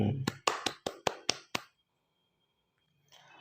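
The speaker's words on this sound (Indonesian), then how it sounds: "Tepuk tangan." A classroom of children claps together in a brisk rhythmic pattern, about seven sharp claps close together, then stops into near silence with faint voices at the end.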